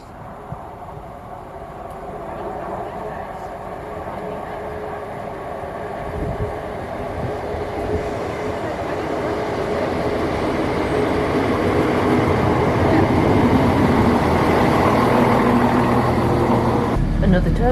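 A diesel passenger train rumbles past close by, its clattering roar and engine drone building steadily louder over several seconds, with a voice speaking briefly.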